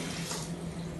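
Water runs steadily from a tap into a container, a soft continuous gush with no other sounds.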